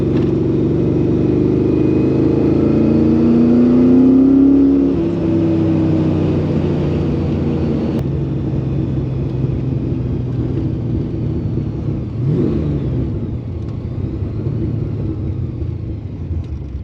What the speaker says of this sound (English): A bit of an exhaust rattle.